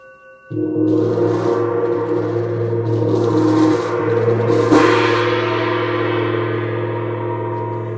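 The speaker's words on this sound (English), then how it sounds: "we even have a gong" A gong struck once, ringing out with a loud, sustained shimmering resonance that swells and slowly decays over several seconds, alone without talk.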